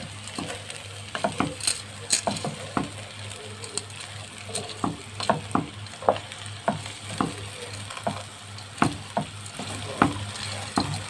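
Onion, vermicelli, rice, lentils and pasta sizzle and fry together in a pot, with frequent scraping stirs and clacks of a spoon against the metal over a steady hiss, close and fairly loud, no talking.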